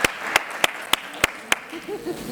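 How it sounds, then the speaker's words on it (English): A handful of slow, evenly spaced claps, about six in a row, ring out in a conference room at a nuclear energy forum as the audience applauds the presenters. A voice starts speaking as the clapping stops. "round of applause for Patrick and Katie"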